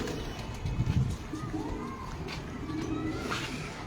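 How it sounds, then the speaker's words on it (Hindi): Lalganj pigeons cooing softly in a loft, low throaty coos repeating under a steady background hum with a few faint bird calls. "ये है जी मेरे लालगंज कबूतर"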